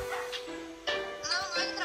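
A virtual dog in the game Play Wild gives a few yips and whimpering bark sounds, close and clear, alongside a player's voice talking.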